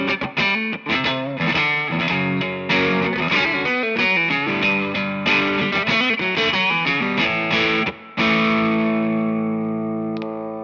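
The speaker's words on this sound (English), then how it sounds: "I want the distortion pedal that does that" Electric guitar played through a Fender MTG Tube Distortion pedal, chunky chords and riffs with a brief pause near the end before a final ringing chord sustains and fades.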